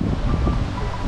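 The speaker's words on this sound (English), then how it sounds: "It's a windy day, sorry about that." Wind buffets the microphone at an RV site at the Bismarck KOA campground, a loud, continuous low rumble.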